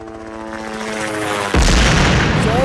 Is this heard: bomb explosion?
yes